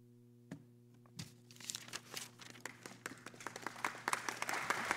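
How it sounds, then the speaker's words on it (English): Colleagues in a congressional hearing room break into applause: a couple of isolated claps at first, then scattered clapping that builds into denser, louder applause. "I appreciate my colleagues for applauding the fact that I finally concluded"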